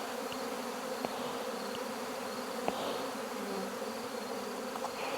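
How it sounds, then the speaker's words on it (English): A constant hum of honeybees swarming around backyard hives during an August inspection, the buzzing dense and close with a few soft clicks and taps, no voices. "My bees are not happy with me today."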